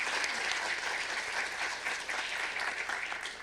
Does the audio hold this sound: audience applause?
yes